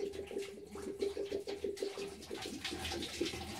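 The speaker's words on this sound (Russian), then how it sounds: "Вот она течет вода." Water runs steadily from a pot as brine is poured off, with a bubbling, gurgling texture, fairly quiet and continuous throughout.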